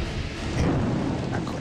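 Thunder and rain in a sound effect rumble together as a continuous, broad roar of heavy rain with low thunder underneath, steady and fairly loud throughout.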